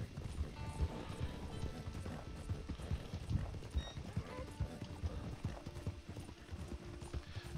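Rhythmic clip-clop of horse hooves at a steady trot in the video game Red Dead Online, close and continuous, with faint mechanical clinks underneath.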